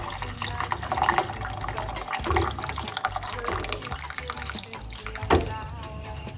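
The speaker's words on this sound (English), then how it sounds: "1 cups of hot water in the pot" Hot water from a kettle is poured into a pot, a steady gushing splash filling the vessel at close range, with no talking over it.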